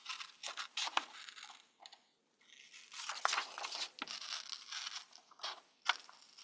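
Paper being cut out along a traced line, with crisp snipping and rustling in irregular close bursts and short pauses between them.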